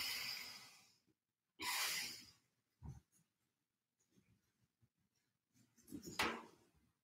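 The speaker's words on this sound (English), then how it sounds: "Exhale." Slow, breathy exhalations during a guided meditation movement, broad airy rushes with gaps between them, close and fairly loud with no speech over them.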